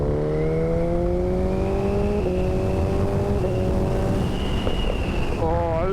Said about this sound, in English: It's got a lovely little pop as you go up on the blipper, and when you back off the throttle it pops and bangs as well